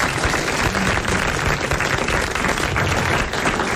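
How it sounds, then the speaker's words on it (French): A French television studio audience in 1986 claps together in steady, sustained applause, a dense even patter of many hands lasting the whole moment. "Monsieur Marandon de Grande-Sainte a déjà gagné vos applaudissements"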